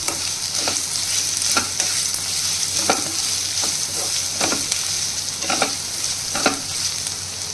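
Garlic, cumin and pepper paste frying in a pan for tomato rasam, a steady close sizzle with intermittent stirring scrapes and clinks spaced through it, no voices.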